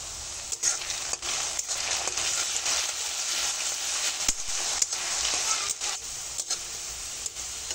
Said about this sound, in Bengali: একটা আলুটা আগে ভেজে নেব